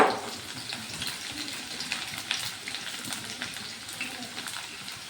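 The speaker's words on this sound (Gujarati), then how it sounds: "તો આ ડુંગળી પહેલાં લઈ અને ગોલ્ડન બ્રાઉન થાય ત્યાં સુધી આપણે તળી લઈશું" Onions fry in hot oil, a steady, quiet hiss and crackle with faint stirring, heard close up and without any talk.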